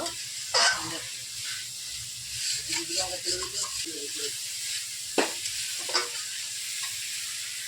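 Chicken masala being stirred as it fries in ghee, a steady sizzle with scraping stir strokes and a few sharper spatters, close and moderately loud.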